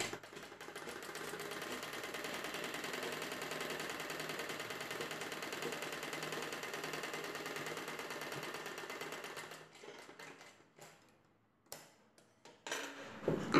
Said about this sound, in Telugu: ఇప్పుడు ఈ పీస్కి స్ట్రైట్గా కుట్టు వేసుకోవాలి.